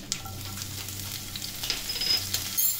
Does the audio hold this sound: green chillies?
yes